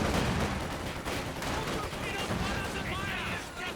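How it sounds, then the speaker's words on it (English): Grenade blasts ring out amid steady gunfire in a Company of Heroes 2 1v1 match, dense and continuous battle noise throughout with a caster talking over it. "Oh, grenades exchanged here."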